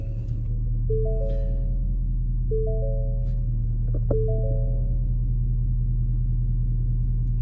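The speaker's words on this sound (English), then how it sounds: "All right, I'm gonna start the truck and you'll hear it." A truck engine starts up and settles into a steady, loud low rumble that holds for several seconds, with a few brief higher tonal beeps sounding over it early on.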